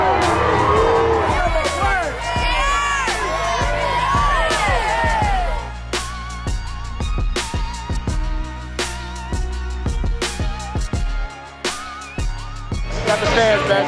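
Ole Miss football fans at a 2021 stadium game against Austin Peay, a lively crowd roaring and whooping in the first seconds, then a steady murmur of distant cheering behind sharp bursts and nearby voices.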